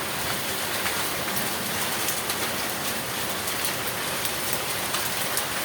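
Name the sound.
hail and heavy rain falling in São Paulo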